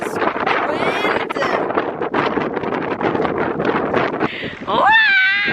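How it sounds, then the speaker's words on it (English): Strong wind buffets the microphone on the summit of Gaustatoppen mountain, a continuous loud rushing roar with gusts throughout and people's voices heard under it. "Ooh, this wind."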